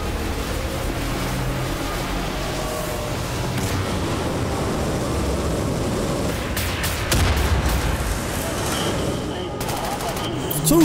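Sustained gunfire from Wolfenstein: The New Order, a dense, continuous barrage of shots and heavy weapon fire with explosive bursts, loud and constant throughout the clip.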